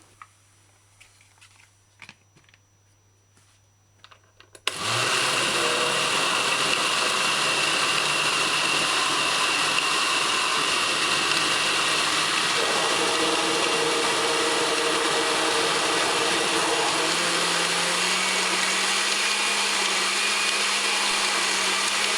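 A kitchen blender grinding fruits, vegetables and stout for a stinking toe punch drink starts abruptly after a few quiet clicks, then runs as a loud, steady motor whine whose pitch shifts partway through as the contents break down.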